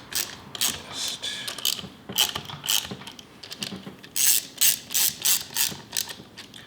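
Ratchet wrench clicking in quick bursts while drawing down new cylinder head bolts on an engine, the pawl chattering close and loud in repeated strokes with short pauses between.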